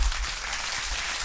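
Crowd applause during a live PFL MMA event broadcast, a steady wash of clapping from many hands in a large arena, continuous and fairly distant.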